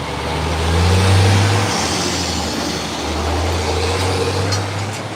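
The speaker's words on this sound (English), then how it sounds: "That's a big dump truck." A big dump truck drives past with a loud, steady low engine rumble that swells and holds for several seconds, close by and with no talk over it.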